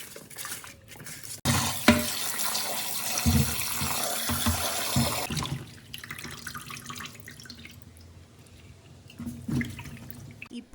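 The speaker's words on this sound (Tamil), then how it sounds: "உப்பு மற்றும் மஞ்சள் தூள் போட்டு மீனை நல்லா வாஷ் பண்ணிக்கலாம்." Fish is washed with salt and turmeric under running tap water, a loud gush that slows to softer splashing and dripping.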